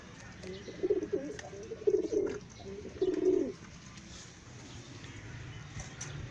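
Breeding pigeons cooing in three distinct bursts at moderate distance, each a low throaty rolling coo, followed by quieter background ambience with no talk.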